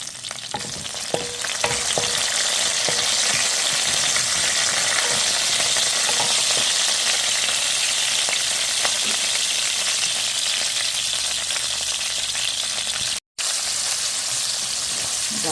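Curry leaves hit hot oil with a loud, dense, continuous sizzle and crackle, close up and unbroken except for a split-second dropout near the end, with no voices.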